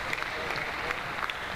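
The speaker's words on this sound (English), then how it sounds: "A very small crowd here gets behind him" A very small crowd applauding and cheering a climber at the men's lead final of the African Continental Championship: thin, scattered clapping at a moderate distance, with a few sharper claps and faint voices mixed in.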